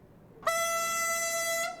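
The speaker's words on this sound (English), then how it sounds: "the train sounds like this" A single sustained train horn blast in Train Simulator Classic on the Mittenwaldbahn, bright and tonal, sounding for about a second before cutting off cleanly.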